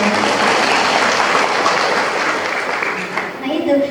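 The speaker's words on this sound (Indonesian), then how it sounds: "Tepuk tangan heula kanggo sadayana." Audience applause at a humorous religious lecture event in Tasikmalaya, a dense continuous wash of clapping filling the whole clip, fading slightly toward the end.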